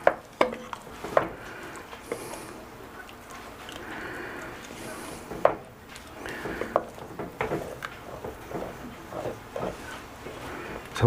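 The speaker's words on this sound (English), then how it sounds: "let's go ahead and get the smoked turkey in. Give it a nice stir." Smoked turkey being stirred into a pot of gumbo, a spoon scraping and clinking against the pot with soft sloshing, close and moderate in level, repeated in an uneven rhythm.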